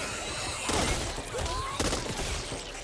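Two bursts of teammate gunfire in the video game Back 4 Blood, each a short sharp volley about a second apart, heard over a busy game backdrop with a faint voice underneath.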